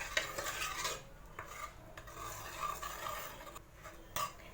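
Cooked dal and garlic being mashed with a ladle, giving soft scraping, stirring and rubbing sounds against a pot, fairly faint and close, with occasional light metallic clinks.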